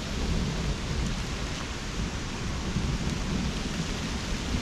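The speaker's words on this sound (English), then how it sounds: "It's lashing with big rain blocks." Heavy rain pours steadily during a thunderstorm near the coast, a dense, constant hiss with low rumbling underneath, close and unbroken, with no voices.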